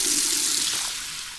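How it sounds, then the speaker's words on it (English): Water pouring steadily into a glass on a high school stage production, a bright close splashing stream that tapers off toward the end, with no talking. "I think I need a glass of water."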